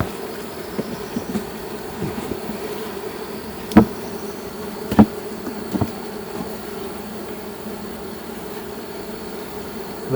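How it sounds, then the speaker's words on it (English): Steady low buzzing of many honeybees at a hive fills the air throughout, a dense hum, with a few brief sharp clicks and taps standing out. "I see more bees over here"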